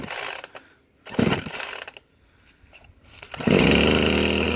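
A Poulan Pro 5020 AV chainsaw is pulled over with its starter cord: short bursts of rattling cord and engine turnover, then the motor catches and settles into a loud, steady run close by.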